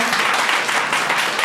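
An audience at an event applauds, a dense and loud burst of many hands clapping together, steady throughout and close.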